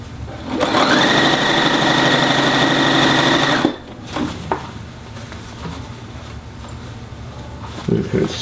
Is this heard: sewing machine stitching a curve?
yes